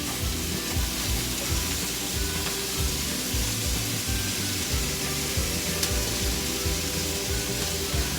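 About 1.5 pounds of ground beef sizzles steadily as it begins sautéing in a hot pan, a dense continuous frying hiss with faint scraping and stirring underneath, close and even throughout, with no talking.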